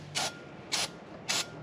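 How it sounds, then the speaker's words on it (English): Brake cleaner sprayed onto the flywheel of a 2015-2024 Ford Mustang S550 during a clutch replacement: three short, evenly spaced hissing bursts, close and crisp, with quiet gaps between them. "we're going to just spray here and get any oil or protectant or whatever"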